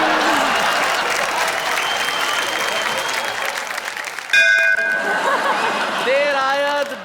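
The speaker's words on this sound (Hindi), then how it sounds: "अब ये बेल बज चुकी है, जो इशारा है धन्यवाद का" A bell rings once to signal thanks at a Hindi poetry gathering, a sudden clear chime with a lingering ring that cuts through sustained applause and crowd murmur.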